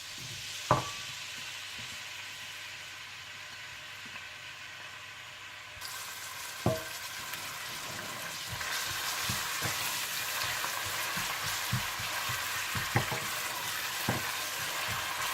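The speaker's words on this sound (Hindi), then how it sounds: "आप तेल गरम कर लें और इसमें प्याज ब्राउन कर लें" Onions browning in hot oil give a steady, moderately quiet sizzle that rises slightly partway through, with a few sharp spatters and occasional stirring clinks. No one speaks.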